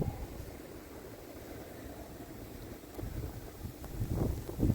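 Winter snowstorm wind gusting in Montreal, a steady low roar of buffeting that swells stronger in the last second or so, with no voices.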